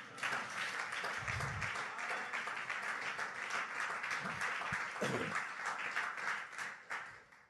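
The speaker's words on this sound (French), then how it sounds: "Est-ce qu'on peut acclamer le roi des rois?" A church congregation applauds with sustained, dense clapping that holds steady for several seconds before tapering off, with a few voices mixed in.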